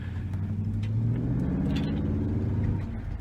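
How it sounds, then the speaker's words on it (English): A Buick Roadmaster wagon fitted with Flow FX mufflers rumbles close by, its exhaust a deep, loud burble that swells as the engine revs, then settles back. "So old mufflers were just tacked on there, and so now these sound so much better."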